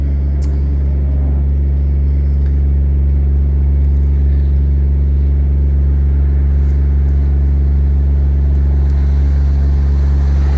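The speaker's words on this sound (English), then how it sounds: "you'll hear the compressor rev up at the end of it" Compressor on an Iveco 4x4 service truck running through its cycle, a loud, steady low engine drone with a strong hum that holds constant and close, with no clear rise and no talking.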